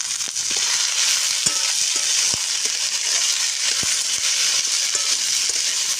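Ginger sizzles in hot oil in a pan while a mixed-vegetable lentil dal with green chilli and peas is cooked, a steady bright frying hiss with small scattered crackles and spoon clinks throughout.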